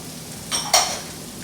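Peppers, green or red, dropped into hot oil during a kitchen cooking demonstration with summer squash, giving two quick, close bursts of sizzling crackle that fade back to quiet.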